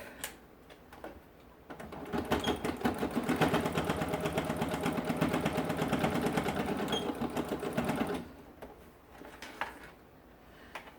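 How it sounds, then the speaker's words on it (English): A sewing machine stitches a seam on a crossbody bag, running as a rapid, even mechanical whir for about six seconds, with quieter handling before and after. "I'm just going to go in a little bit more because it doesn't seem to be catching that bottom layer"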